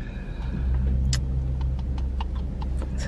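A car being driven on a road trip, its steady low engine and road rumble filling the cabin, with a few faint clicks and rattles on top and no voices.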